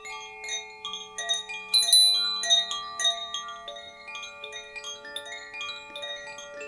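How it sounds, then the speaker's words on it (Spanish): Resonant metal bells struck one after another during an Andean sound bath, their clear, sustained tones overlapping and ringing out long and softly in a quiet space. "las campanas."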